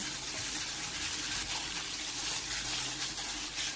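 Water steadily pouring into a cooking pot, roughly half a small glass added to a stirred egg mixture for Palembang laksan, a continuous soft gushing splash throughout, close and fairly quiet with no talking.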